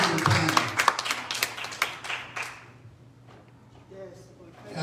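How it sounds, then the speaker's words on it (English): A church congregation claps their hands in worship, a dense run of sharp claps that thins out and fades after about three seconds, with talk faintly underneath. "Will you clap your hands into the Lord?"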